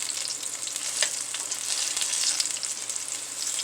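Coconut milk hits a hot pan of sizzling onions and seafood base for coconut curry salmon, raising a loud, steady frying hiss with light stirring scrapes, close and continuous with no talking.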